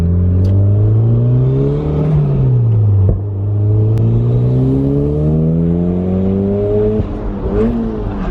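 A Toyota MR2 fitted with a new exhaust revs hard through a botched gear change, the engine note rising, dipping sharply mid-shift and climbing again in a loud, continuous close-up drone.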